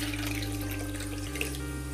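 Water is poured in a continuous stream into a cooking pan, with a slight shift in pitch partway through, and no voices.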